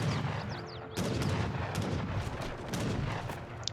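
Heavy cannon and howitzers fire in a battle in the strategy game Age of Empires III. Sharp booms and rapid gunfire crackle repeatedly in a dense, continuous barrage.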